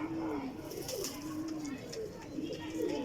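Teddy golden cross flying pigeons coo in repeated wavering, rolling calls close by, steady over a hissy background, with a voice faintly present.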